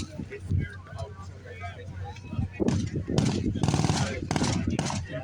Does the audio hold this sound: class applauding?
no